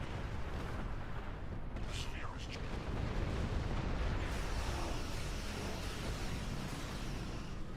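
Ship cannons fire in space combat in the video game Star Trek Online, a dense rumbling barrage of blasts and booms running continuously under a low wash of game noise.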